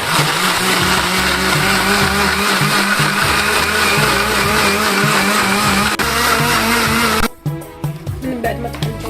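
A blender loudly grinds a homemade skin-whitening mixture made with glasses of water, running as a steady, dense whir for about seven seconds before cutting off abruptly into clattering and faint handling sounds.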